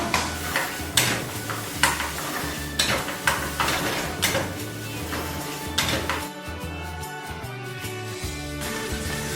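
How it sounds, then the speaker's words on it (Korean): A spatula scrapes and clanks rhythmically against a pan while stir-frying vegetables mixed with chunjang black bean paste for Chinese-style jajang sauce. A steady sizzle runs underneath the regular stirring strokes. "기름기를 제거해서 춘장을 넣어서 혼합이 되도록 볶아주세요."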